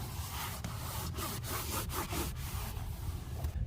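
Steady scrubbing of a boat's non-skid deck surface with brake cleaner on a Regal 33 XO, a continuous close rasping rub with rhythmic strokes and no talking.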